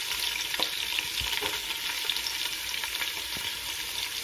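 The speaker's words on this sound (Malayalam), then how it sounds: "എനിക്ക് നന്നായി ഇളക്കി കൊടുക്കാം ഇത് കരിയാൻ പാടില്ല ഇതിലേക്ക് നമുക്ക് ഉള്ളി ചേർത്ത് കൊടുക്കാം" Onions and spices fry in hot oil while being stirred for a soya biriyani, giving a loud, steady sizzle throughout with occasional scraping knocks of the spoon against the pan.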